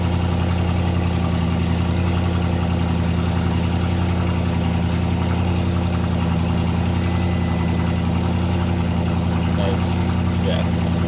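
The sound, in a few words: Audi RS6 cold start with new exhaust, heard from inside car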